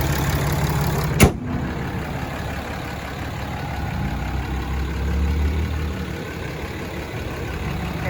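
A 2018 Ram 2500 Laramie 4x4 with a 6.7 liter Cummins turbo diesel idles steadily with a low, even rumble, broken early by one sharp click or knock.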